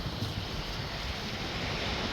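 Waves at Al Mamzar Beach Park, a broad continuous wash of surf mixed with wind buffeting the microphone, steady and fairly loud.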